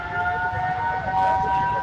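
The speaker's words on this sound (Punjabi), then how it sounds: "ਤੁਸੀਂ ਆਵਾਜ਼ ਸੁਣੋ ਇਹ ਆਵਾਜ਼ ਹੈ ਸਾਇਰਨ ਦੀ" A civil defense siren wails during a blackout in Amritsar, holding a steady, sustained tone that carries over the street from some distance, with a low background rumble and no speech.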